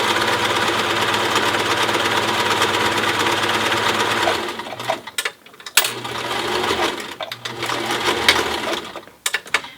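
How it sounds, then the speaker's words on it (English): A sewing machine stitches a quarter-inch seam along the bottom layer of a cloth protective face mask, running in a close, steady whirring chatter, pausing briefly, then starting up again for a second run. "now I'm stitching the other half of that bottom layer"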